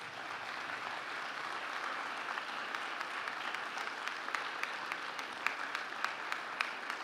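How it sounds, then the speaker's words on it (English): At a graduation ceremony, a large hall of graduates gives sustained applause to their family and friends, an even roar of clapping with a few sharper nearby claps standing out over seven seconds. "give your family and friends a big round of applause"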